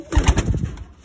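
Pigeons on a farm give a few soft, low, close coos in a short burst, with a faint flutter and no talking.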